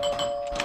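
Doorbell ringing inside a video game, a single short electronic chime tone held steady for under a second, clear and close with no voices.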